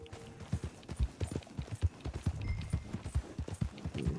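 Horse hooves clip-clop in a steady walking rhythm in Red Dead Online, fairly quiet and close, with no talking over them.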